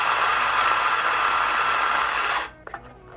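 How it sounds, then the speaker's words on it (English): Espresso coffee grinder grinding beans, a steady loud whir running continuously for about two and a half seconds before cutting off, followed by a couple of faint clicks. "We'll grind a little more."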